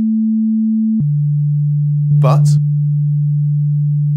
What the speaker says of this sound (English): It's a continuous tone because that's exactly what I've asked it to do.